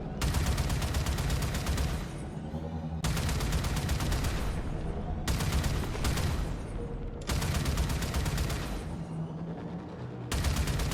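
Railjack ship guns in Warframe blast at space debris, long sustained bursts of rapid fire in four loud volleys separated by brief lulls, with a steady engine hum underneath.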